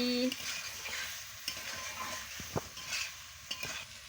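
Vegetables and coriander leaves are stirred and fried in a pan for a fish curry with cauliflower, with a soft sizzle under a few distinct, close scrapes and taps of the spoon.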